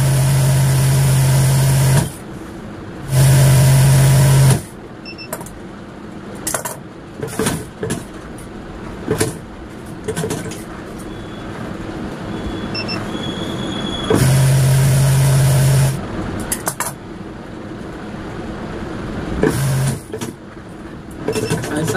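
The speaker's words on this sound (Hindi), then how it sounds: "सीधा करने के बाद इस तरह से रख के सिलाई लगा देनी है" A sewing machine stitches a phone purse made from a dupatta, its motor whirring in loud, sustained runs of a couple of seconds each. Quieter handling and rustling fill the pauses between runs.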